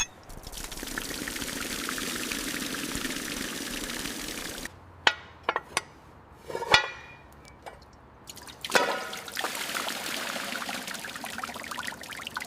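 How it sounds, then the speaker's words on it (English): Fluid pours and drips from an abandoned police car, once buried in a swamp, raised on a shop lift: a steady splashing stream at first, then scattered drips and metallic knocks, before the flow resumes. "Looks like it stopped dripping"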